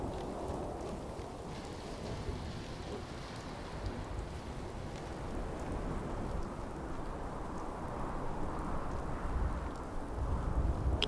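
A radiation storm in the Fallout 4 video game comes through as steady rain with a rumbling undertone, continuous and fairly loud, with no voices over it.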